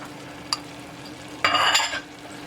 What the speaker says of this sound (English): our next step is to add our vegetables to get them sauteed a bit